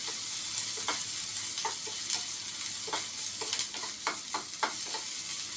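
Onions frying in a pan for tharikanji, a steady bright sizzle with a run of light stirring clicks and scrapes, close and moderately loud, no voices.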